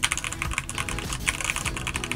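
Fast, continuous typing on an Eyooso K-620 TKL hot-swap mechanical keyboard, a budget model, giving a dense stream of sharp, close key clacks with no voice over it.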